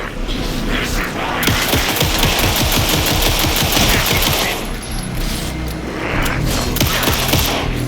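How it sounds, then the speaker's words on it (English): Rapid bursts of automatic gunfire rattle continuously in a game firefight, loud and close, with clanking mechanical sounds and brief shouted voices mixed in. "Anderson, pin him down with gunfire for me to get the light on him."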